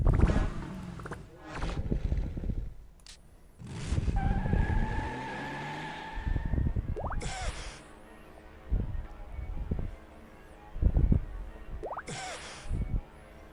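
Engine roar from a car with a loud exhaust in the Win95 game The Time Warp of Dr. Brain, with tire skids, several rising revving bursts and sharp squeals amid game sound effects.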